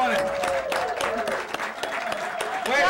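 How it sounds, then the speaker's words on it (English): Short burst of audience clapping welcoming a guest at a live show, steady applause with voices and whoops over it. "can we have a nice, warm, welcome round of applause for Miss Nikki Giovani"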